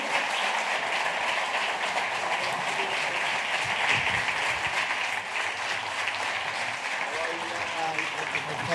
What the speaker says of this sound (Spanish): denle un fuerte aplauso ahí en el día de hoy